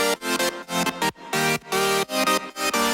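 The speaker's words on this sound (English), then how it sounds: "5 voices of saw here with almost no detune." A basic synth preset of five saw voices with almost no detune plays short, punchy chords in a choppy, stuttering rhythm, loud and bright with abrupt gaps between hits, in an EDM remix setting, with no voices.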